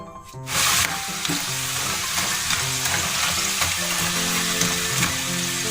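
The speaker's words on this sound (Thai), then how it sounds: "แต่ว่าเดี๋ยวเราจะทอดอีกรอบนึง" Chicken pieces deep frying in hot oil for a second crisping round, a loud steady sizzle and crackle that bursts up as the pieces go in and continues unbroken, with occasional stirring clinks.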